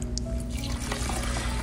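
Hot azuki bean cooking water pours steadily into a rice cooker for osekihan, a continuous close liquid rush without pause.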